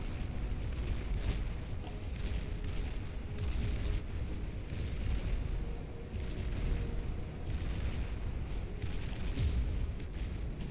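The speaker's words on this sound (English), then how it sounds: "I guess those cannons on the sides of these things managed to do a pretty good job against a lot of those structures." Cannons on units fire on enemy structures in the Beyond All Reason strategy game, a dense, continuous barrage of deep booms and rumbling blasts that stays loud throughout with no voices.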